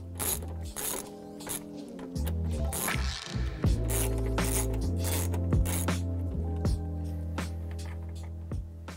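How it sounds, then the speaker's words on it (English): A ratchet with a 10 mm socket loosens grille screws on a 2016-2020 Toyota Tacoma, a close, rapid run of clicking pawl ticks over a low mechanical hum. "you're just going to use a 10 millimeter socket to pull these off"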